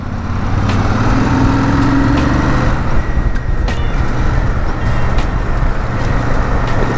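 A Royal Enfield Super Meteor 650 twin-cylinder cruiser rumbles through heavy city traffic, its steady low exhaust drone blending with surrounding road noise and passing vehicles.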